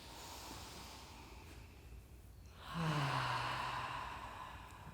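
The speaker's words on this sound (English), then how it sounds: "Just take a good deep breath in. Breathe in. And relax." One deep breath, a long quiet inhale followed by a fuller, louder sighing exhale, heard close with a faint hiss behind it and no talk.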